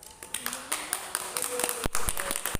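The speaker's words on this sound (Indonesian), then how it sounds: "Tepuk tangan guys." A small group claps hands in a classroom-style session, with scattered, uneven claps, some sharp and close, forming a loose, sparse patter that thickens briefly near the end, with faint voices in the background.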